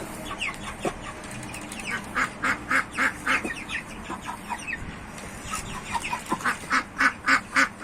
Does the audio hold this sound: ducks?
yes